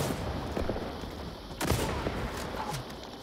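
Sniper rifle fire in the shooter game XDefiant: a few sharp, spaced cracks ring out at a moderate distance over a steady background hum of gameplay.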